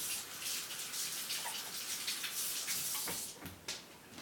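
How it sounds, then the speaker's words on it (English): Water runs steadily from a tap as hands are washed, a continuous close hiss with splashy patches and a couple of knocks near the end, no voices. "So I'm going to wash my hands and tell you good day."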